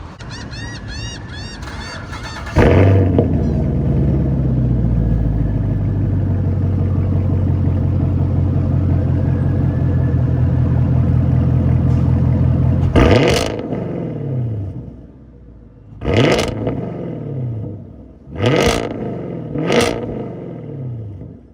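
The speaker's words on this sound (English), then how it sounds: "let's hear how the 2020 Camaro LT1 sounds with muffler deletes" A 2020 Chevrolet Camaro LT1 V8 with muffler deletes starts with a loud rumbling idle that drones for several seconds, then a series of sharp, raspy revs bark out and fall away.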